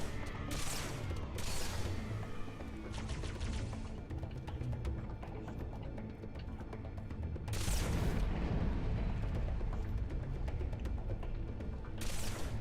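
Video-game spike grenades go off in a string of loud, close booms, roughly five blasts spread across the stretch, with rapid crackling gunfire rattling between them.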